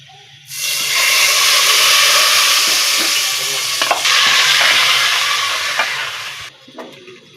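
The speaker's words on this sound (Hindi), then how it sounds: "ये मैं लगा रही हूँ कड़ी को तड़का" Tadka sizzling and frying as it is poured into reheated kadhi in a home kitchen, a loud steady hiss that starts abruptly and lasts about six seconds with a few pops and clinks before it cuts off.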